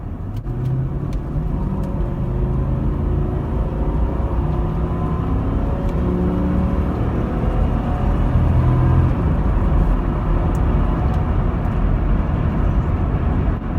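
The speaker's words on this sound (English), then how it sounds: "So I mean, that V8 rumble is unbelievable." Toyota Land Cruiser V8 engine rumbling while accelerating, a loud continuous deep drone heard from inside the cabin, holding steady with no voices over it.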